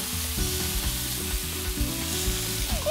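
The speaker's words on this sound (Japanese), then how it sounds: "下味をつけたこのお肉、これを炒めていきます。" Seasoned beef stir-frying in a frying pan, a steady loud sizzle throughout, with a low hum underneath.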